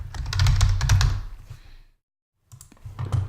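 Quick clicks of keys being typed on a computer keyboard nearby, a burst of tapping, a short pause, then more typing.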